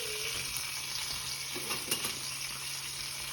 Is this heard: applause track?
no